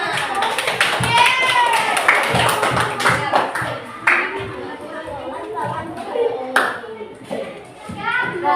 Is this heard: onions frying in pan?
no